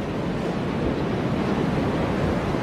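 Sea waves wash in a steady, dense rush of surf noise, loud and continuous throughout with no distinct breaks and no voices.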